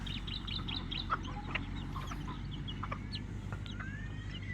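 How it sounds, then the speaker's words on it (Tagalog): Backyard pet chickens cluck and chatter in scattered short calls over a steady low hum, fairly close, with no one talking. "Ayan mga idol yung mga alaga nilang manok."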